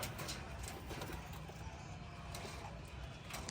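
Pigeons on a small farm coo faintly in the distance, half buried under a steady outdoor hiss with no clear individual calls.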